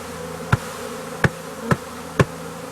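A swarm of honeybees is poured onto a hive, giving a steady, close buzzing drone broken by four soft, evenly spaced thumps.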